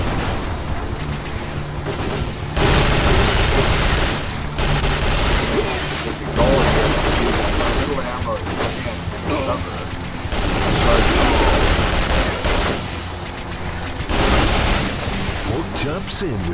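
Gunfire in the shooter game Duke Nukem Forever comes in loud sustained bursts of rapid shots and booming blasts, broken by brief quieter gaps, with a voice talking over the action.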